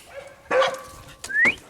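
Dogs on a farm, excited about something beneath a vehicle during corn harvest, give two sharp close barks mixed with a high rising whimper or yip, with quieter whining between them.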